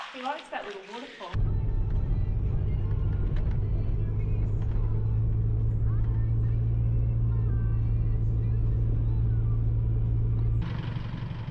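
A car drives along an outback road near Tunnel Creek on the Gibb River Road, giving a loud, steady low engine and tyre rumble that holds for about ten seconds, with brief talk just before it starts.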